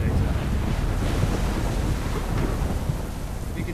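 Heavy rain and gusting wind batter an ocean world in Mass Effect 3, a dense, loud roar of storm and surf that rolls on without a pause and holds no voices.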